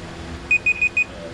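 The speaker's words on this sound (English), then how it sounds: "That's my alarm for the pork butt we're cooking." Four short, high electronic beeps in a quick even pattern from a phone timer alarm, over faint room noise.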